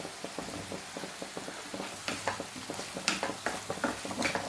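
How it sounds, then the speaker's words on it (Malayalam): Cut potatoes are stirred into cooked tomatoes in a pan, with soft repeated scraping and clatter of a spoon over a faint bubbling sizzle, close and fairly quiet, with no voices. "നന്നായിട്ടൊന്ന് ഇളക്കി കൊടുക്കാം."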